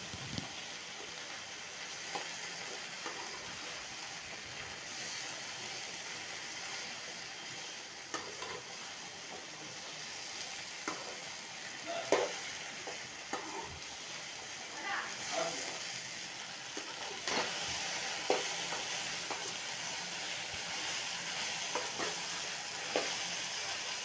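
Sliced okra frying and being stirred in a pan until browned, a steady sizzle with scraping stirring strokes running throughout, close and moderately loud.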